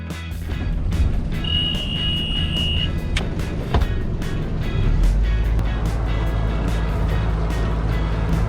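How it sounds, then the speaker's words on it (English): A sailboat's diesel engine runs steadily below deck, a loud continuous low rumble with a constant drone and a few faint clicks and a brief whine over it. "The soothing sound of an engine and burning diesel."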